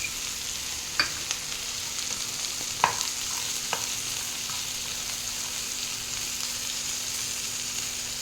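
Peanuts sizzle in a hot pan for a ridge gourd fry, a steady, even crackling hiss with a few faint taps of a stirring utensil and no talking.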